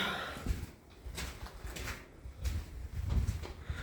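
A door inside a building section being handled, heard as a few faint, soft clunks and scrapes spread over several seconds in a quiet room, without talk.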